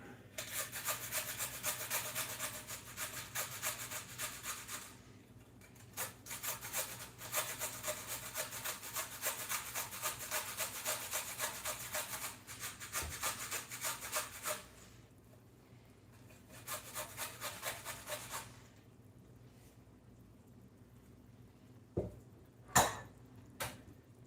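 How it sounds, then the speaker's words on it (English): The stub of a carrot is rubbed over a grater in a home kitchen, giving bursts of rasping, scraping strokes up close, separated by quieter pauses, with a few light knocks near the end. "We're going to just take the butt of this carrot. We're going to grate it."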